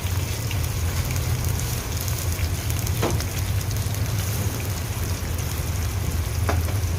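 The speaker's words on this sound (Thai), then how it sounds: "เราจะเอาตับหมูไปผัดก่อนนะคะ" Pork liver stir-frying in a hot pan with garlic for a stir-fry with onion flowers: a loud, continuous, close sizzle with a few faint clicks of stirring.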